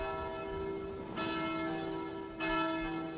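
Church bells peal across Sweden on 2 August 1914, a steady resonant ringing with new strikes swelling in around the middle and again near the end, with no voices.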